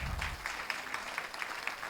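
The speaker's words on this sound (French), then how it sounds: "Applaudissez encore un peu plus fort" An audience claps at an engineering master class, a faint, steady patter of applause with a few sharper claps standing out across the short stretch.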